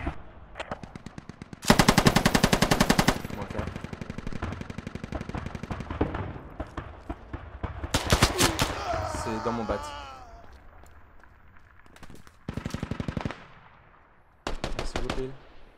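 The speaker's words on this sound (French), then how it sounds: "qu'il tire sur des alliés là" Bursts of automatic gunfire in Squad, a PKP machine gun firing on allies, with several loud rapid strings separated by pauses and a voice talking between them.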